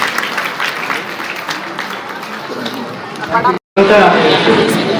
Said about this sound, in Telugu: so I would request all of you to give big claps to parents and teachers